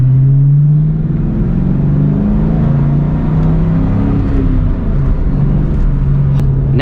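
Mustang Cobra fitted with a Flowmaster 40 Series exhaust cruising in fifth gear on the highway, a steady deep engine drone with rumbling exhaust note throughout, slight rise near the end.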